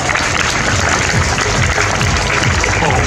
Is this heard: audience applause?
yes